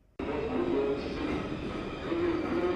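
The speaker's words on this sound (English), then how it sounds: "When the train finally pulled in," A New York subway train rolls into a station platform, a steady loud rumble of wheels and cars that begins abruptly and holds throughout, with faint squeals riding over the roar.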